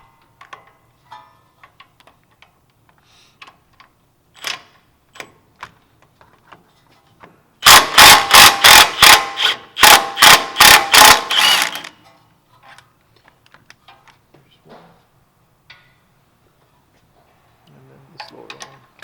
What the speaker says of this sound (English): now with the 17, so I'm gonna use this swivel right here. We're gonna remove the caliper.